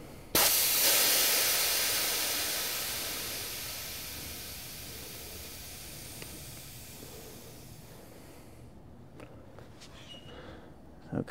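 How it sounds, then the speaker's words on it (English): Air rushing out of a bicycle tire through the valve: a loud, steady hiss that starts abruptly and slowly fades over about eight seconds, followed by faint clicks and handling noises. "So I'm gonna let all the air out,"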